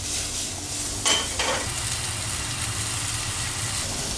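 Cooked baby potatoes and carrots sizzle in a hot pan, with a couple of brief tossing scrapes near the middle over a steady frying hiss.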